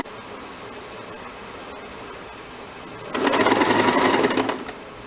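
Electric sewing machine stitching the side seam of a princess cut blouse, a steady whirring run of about a second and a half that starts abruptly after low room hum and then stops.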